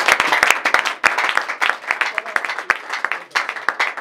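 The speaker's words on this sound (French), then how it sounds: "Est-ce qu'on peut acclamer pour le Seigneur?" A church congregation at a Pentecost service claps and applauds together, a dense, continuous burst of hand claps with crowd noise, loud and close throughout.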